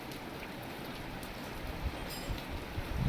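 Heavy rain pours down in a steady, even hiss that stays constant from start to finish, with no voices over it.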